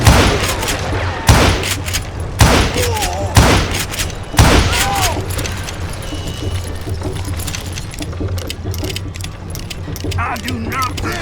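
Rapid gunfire in the Western shooter game Call of Juarez: Gunslinger, several loud bursts in the first five seconds, then continuing shots and explosive booms over game music and effects.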